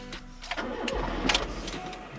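A car engine cranks and catches on a cold day, then settles into a low, steady warm-up rumble close by, with no talking over it.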